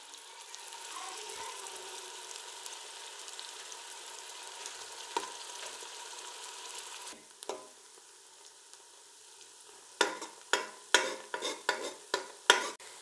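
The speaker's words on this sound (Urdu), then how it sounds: "اس میں ہم شامل کر لیں گے پیاز اور ان پیازوں کو ہم کر لیں گے ہلکا گلابی" Onions frying in a pan until light pink for a spinach and beef curry, a steady moderate sizzle, then a series of sharp spoon scrapes and clacks against the pan near the end, no talk.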